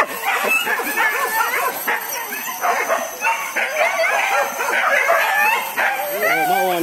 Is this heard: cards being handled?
no